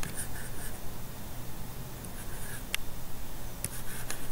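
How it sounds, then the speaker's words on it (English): Pen or pencil strokes scratching across paper while organic chemistry notes are written, soft and close, in short intermittent bursts with a faint steady hum beneath. "So I'm just going to write this over here to the side."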